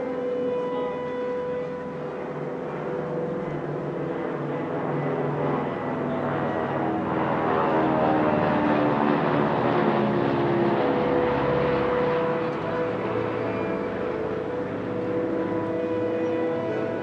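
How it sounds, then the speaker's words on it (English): A formation of Beech 18 (C-45) twin-engine propeller aircraft drones overhead at an airshow, a sustained buzzing roar with beating engine tones that swells and fades as the solo plane crosses through the formation. "the solo C-45 flies through the middle of the rest of the formation, which then splits to the left and right"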